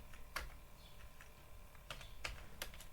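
Keys clatter in short bursts on a computer keyboard while code is typed into an Excel VBA editor, a few sharp clusters of taps spread over a quiet background.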